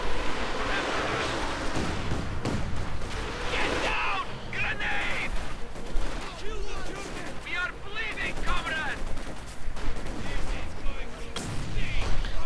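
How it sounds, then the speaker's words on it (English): Katyusha rocket artillery fires in a 1v1 video game battle: repeated whooshing volleys and booming bursts arrive in clusters over a rumbling battlefield, under a commentator's voice. "And more Katyusha."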